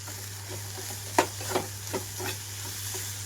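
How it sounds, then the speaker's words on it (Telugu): Coriander being stirred into cluster beans frying in a pan, a few distinct scraping stir strokes over a faint steady sizzle, close and fairly quiet. "ముక్కంతా ఫ్రై అయిపోయిన తర్వాత చివరిగా నేను ఇందులోకి కొంచెంగా కొత్తిమీర కలిపేస్తున్నాను"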